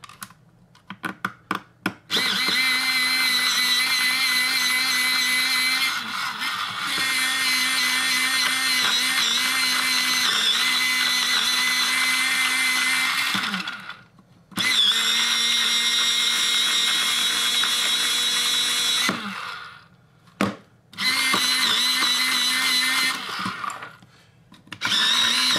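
A Riyo PS-04 portable electric pencil sharpener grinding a pencil, a loud high whirring motor in long bursts that cut out briefly and restart several times, alone without talk.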